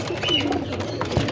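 Domestic pigeons cooing at a breeder's loft in Lahore, a soft low murmuring that runs steadily through the short moment with no talk over it.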